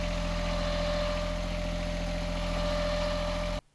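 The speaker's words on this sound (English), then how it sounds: "our port engine was sounding a bit different" A sailboat's port engine runs loud and steady, sounding off after coming loose from its saildrive, its constant droning hum holding a fixed pitch before cutting off abruptly near the end.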